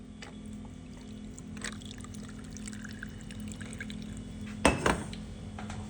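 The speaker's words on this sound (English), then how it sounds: "Fill up with ice, add your water." Water poured over ice into a cup while making an iced Americano, a soft steady trickle running low throughout, then a brief louder splash and clink near the end.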